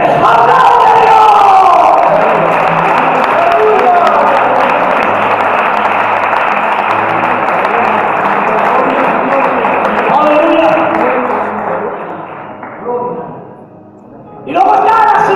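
Church congregation breaking into loud applause and cheering, a dense crowd roar with whoops that fades toward the end before swelling briefly again.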